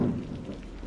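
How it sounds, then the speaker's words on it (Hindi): A cartoon downpour of heavy rain hisses steadily in a brief, faint wash of noise, with a low rumble underneath. "बारिश बहुत हो रही है"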